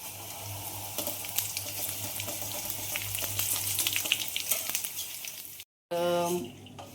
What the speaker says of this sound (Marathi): आपल्याला आता यात पोहे तळायचे तर मी थोडे थोडे घेणार